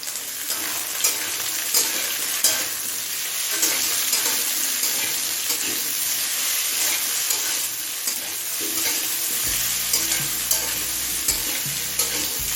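Potato, carrot and onion frying on high flame in a pan, a loud dense sizzle throughout with regular scrapes and knocks as the vegetables are stirred.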